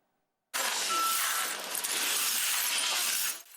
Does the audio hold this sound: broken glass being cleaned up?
yes